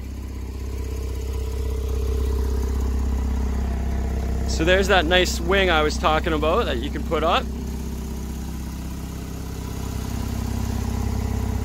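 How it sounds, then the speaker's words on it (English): A 2017 Porsche 911 GTS idles with its rear-mounted engine as a steady, low mechanical rumble, close by and continuous, while someone talks briefly over it midway. "Coming around back, you can start to hear the engine here."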